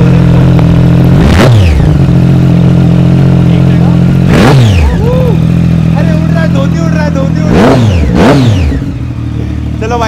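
A Kawasaki Z800 superbike with a Two Brothers exhaust idles loudly up close and is blipped in several sharp revs that rise and fall, with someone speaking briefly between them.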